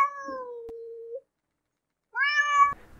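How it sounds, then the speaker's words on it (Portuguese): A domestic cat gives two clear, close meows: a long falling call, then silence, then a second rising meow, with nothing else heard. "Quando o gato mia curto, significa que o gato está cumprimentando."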